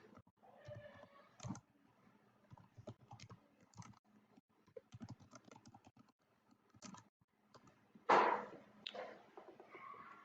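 Soft, close keystrokes tap out a name on a computer keyboard in quick irregular bursts, followed by one louder click and a brief rustle.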